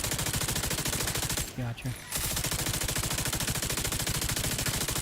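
Sustained rapid automatic gunfire in a military shooter game, loud and continuous with a brief pause midway where a voice speaks a short word, then the rattling bursts resume.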